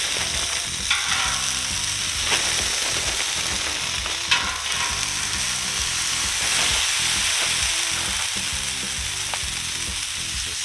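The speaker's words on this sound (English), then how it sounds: "we're gonna put hash browns down first, let those go for a little while" Hash browns, about a cup and a half, fry on an oiled griddle with a steady, loud, even sizzle and crackle that holds throughout, with a few faint scrapes.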